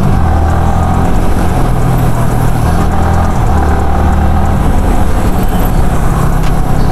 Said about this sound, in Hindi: ये हमने स्पीड अप करा बाइक को, अब हमको ब्रेक लगाना है, ये डाउनशिफ्ट और एक्सेलरेशन मैच